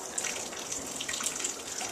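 The Umatilla River, swollen after heavy rain, flows in a steady, close wash of rushing and gurgling water with small splashes and no talk.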